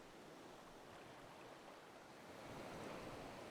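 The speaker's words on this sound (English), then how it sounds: "listening to the soothing sound of the waves" Ocean waves in the Final Fantasy XIV game, a soft, continuous surf wash that swells slightly toward the end, heard alone.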